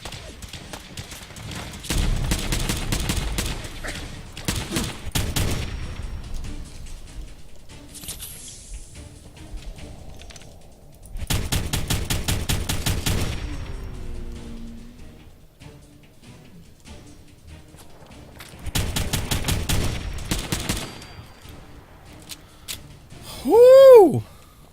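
Video game gunfire in Fallout 4, heard in three long bursts of rapid, loud automatic shots separated by quieter gaps, with an odd whooshing, rising effect near the end.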